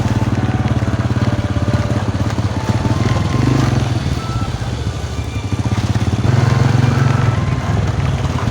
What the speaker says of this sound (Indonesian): jadi kita harus menaiki motor untuk mengambil bubu tersebut